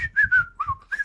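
A man whistles the Andy Griffith Show theme tune in a short, close, breathy phrase of a few sliding notes, alone without speech.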